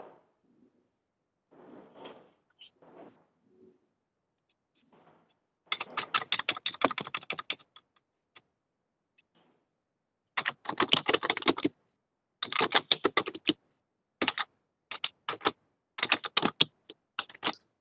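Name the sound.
typing on a computer keyboard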